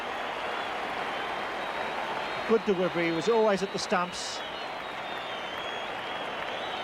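Cricket crowd applause after a bowled wicket, a steady, broad wash of clapping from a large stadium audience. A commentator speaks briefly over it.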